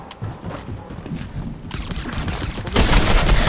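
Gunfire in the Fortnite battle royale game during a Zero Build duos match, rapid loud bursts of automatic shots that intensify toward the end, dense and continuous, with no voices.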